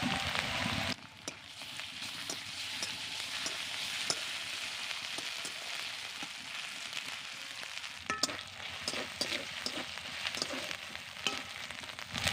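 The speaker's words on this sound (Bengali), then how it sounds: "আদা রসুনকে আমি ভালো করে ভেজে নিয়েছি" Sliced onion and ginger-garlic paste fry in a pan, a continuous hissing sizzle with soft crackles and scattered spoon scrapes throughout, steady and unaccompanied by speech.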